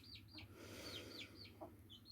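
Chickens clucking and calling in short bursts over a steady low hum, moderately close, with a few higher chirpy notes scattered through.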